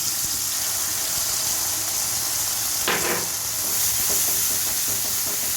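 Tomato and mustard greens fry in a pan with a steady loud sizzle throughout, and the brief scrape of a stirring spoon comes midway, close and without talk.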